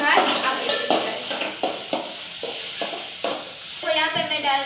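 A spoon scrapes and stirs a pan as water and a cumin tempering with salt are cooked, with rhythmic strokes about twice a second over a steady sizzle, close and fairly loud.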